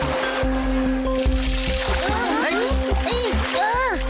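A cartoon dolphin splashes water amid bubbly watery sounds and rising squeaky chirps, over steady background music and ambience.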